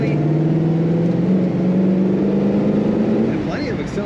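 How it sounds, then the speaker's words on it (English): A 1964 Ford Falcon Sprint convertible accelerating, its engine note rising steadily in pitch from inside the car, then easing off near the end. "And plenty of acceleration."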